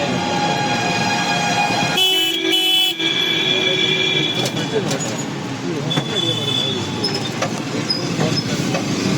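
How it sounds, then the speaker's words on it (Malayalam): Busy market street in Uttar Pradesh, India, with a loud horn blast standing out, followed by scattered honks and engine rumble over steady traffic noise. "ഇതാണ് വിഷയം, ഇവിടുത്തെ വിഷയം ഇതാണ്, ഹോണടി."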